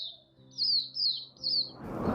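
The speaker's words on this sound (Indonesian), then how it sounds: "Kicauan burung-burung begitu nyaring terdengar di telinga pasangan dua sejoli" Birds chirp in three repeated high, sweeping calls, clear and fairly near, over a low steady hum, followed by a rush of noise at the end.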